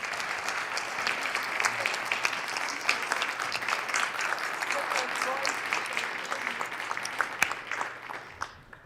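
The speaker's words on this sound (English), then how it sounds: "Let's give her a round of applause." Applause fills the South Dakota Senate chamber: dense, steady clapping from many hands that runs for several seconds at moderate volume, then tapers off near the end.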